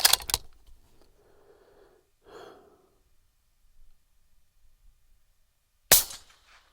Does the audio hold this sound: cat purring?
no